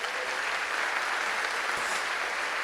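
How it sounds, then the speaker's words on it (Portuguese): A church congregation claps together in a steady, even wash of applause that carries on without a break, moderately loud in a reverberant room. "você pode aplaudir o Senhor."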